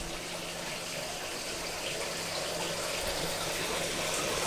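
Water running steadily from a pipe into a waterfall tank being filled for the first time, a continuous close gushing wash with no splashing bursts.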